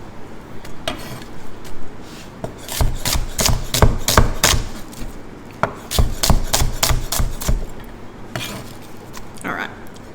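Onions being chopped with a blunt knife on a cutting board, a close, loud run of rapid knocks in two bursts with a few scattered taps before and after.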